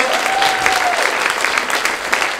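A roomful of people in a hall applauds steadily, a dense and even wash of clapping that holds at a constant loudness throughout, with no speech over it.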